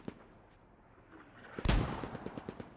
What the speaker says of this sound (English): you can hear the German mortars firing